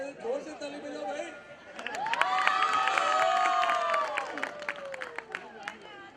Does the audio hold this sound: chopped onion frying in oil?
no